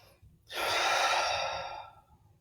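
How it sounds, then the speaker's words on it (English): A deep breath drawn in and then let out slowly as a calming exercise to release tension, heard as one close, soft, airy breath that swells and gradually fades, with no talking. "take a nice deep breath, release the tension on the exhale"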